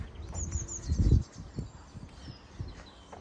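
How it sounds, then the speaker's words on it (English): Birds chirp and tweet at a park-like outdoor exercise spot, several short thin calls scattered across the clip over rustling and low background rumble, no talking. "The birds are singing as well."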